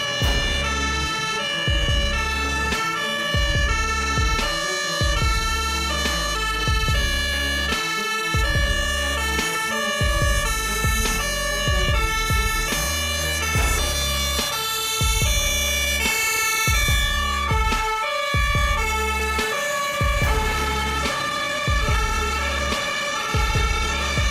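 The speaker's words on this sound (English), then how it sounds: "The sound of ambulance sirens tore through the quiet atmosphere." Ambulance sirens wail steadily alongside a thumping, pulsing beat, loud and continuous throughout with no speech.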